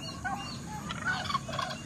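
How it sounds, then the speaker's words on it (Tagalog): Backyard turkeys gobble in a few quick, warbling bursts at moderate distance over a soft background hum. "yung mga pabo natin."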